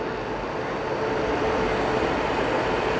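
Himsagar Express pulling out of Warangal station, a steady loud rumble of rolling wagons with a faint high wheel squeal, continuous and close with no talk.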